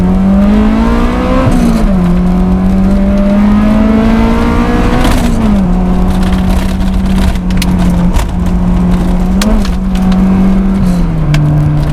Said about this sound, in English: Just have a listen to the VTEC again, it sounds amazing